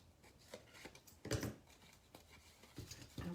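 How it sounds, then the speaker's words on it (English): Scissors snip through paper while a small treat box is made, several quiet, close cuts spaced irregularly with soft rustling between them. "let's come in and snip up this end. And we'll cut this piece off."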